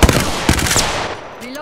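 Apex Legends gunfire rattles in a rapid burst of close, loud shots over roughly a second, fading out as a game tone rises at the end.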